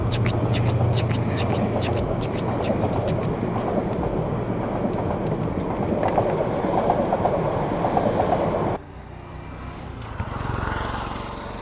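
A train passes on a dark village road at night, loud and close, with a continuous rumble and rhythmic clatter of wagons that drops away abruptly near the end, leaving quieter background noise.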